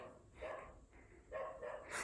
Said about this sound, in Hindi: देखो कुत्ते भौंक रहे कहीं